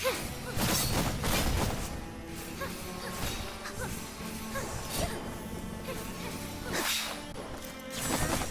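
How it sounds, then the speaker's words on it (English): Magic missile spell effects from the video game Afterimage, a dense run of whooshing, crackling projectile bursts that hit hard at the start, near the 5-second mark, around 7 seconds and again at the end, with no talking. "Magic missile"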